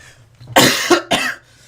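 A person coughs loudly two or three times in quick succession, harsh close bursts over a quiet low hum.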